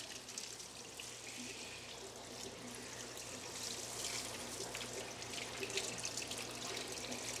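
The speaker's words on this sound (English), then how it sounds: "we're just gonna slowly get this drenched in some water so we're not disrupting too much." Water slowly poured into dirt substrate in a BioCube aquarium being aquascaped for a betta, a steady soft trickle and splash running close and continuous throughout, with no talking.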